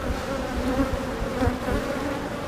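Honeybees buzzing in an opened hive, a dense, steady hum of many insects close by with no voices.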